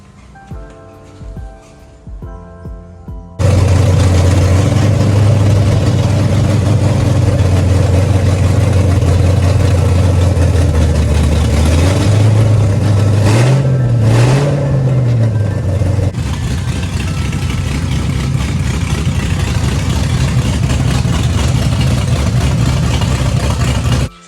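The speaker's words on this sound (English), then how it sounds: "The car now starts and runs." A big-cammed LS1 V8 burnout car engine fires up after a few seconds of quiet and settles into a loud, lumpy idle, then revs up and back down several times before idling on, close and steady.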